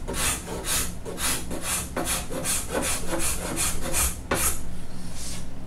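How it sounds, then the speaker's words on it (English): Cabinet scraper drawn across the wood of a guitar neck, giving a rhythmic series of dry, raspy scraping strokes, roughly two per second, close and steady with no talking. "Let's see if I can take some of that down just with a cabinet scraper."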